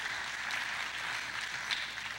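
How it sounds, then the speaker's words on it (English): Steady applause from a seated crowd at an awards luncheon, a continuous even wash of clapping heard at a distance, fairly faint, with no pauses. "A round of applause for that group."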